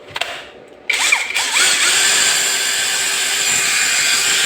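A Lotus 20V max brushless impact driver spins up after a few clicks, settling into a steady, loud high-pitched motor whine that runs on alone.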